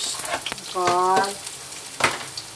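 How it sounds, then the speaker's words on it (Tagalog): Garlic and onion sauté in a pan with a steady sizzle, broken by a few utensil knocks and a short harmonic squeak partway through. "Nagisa na ako ng bawang at sibuyas."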